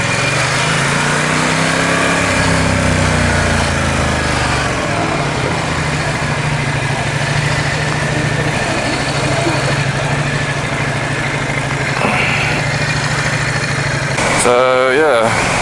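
A 2021 Ducati XDiavel Dark motorcycle rides along at steady cruising speed, its engine droning continuously under heavy wind rush, with a rider talking over it.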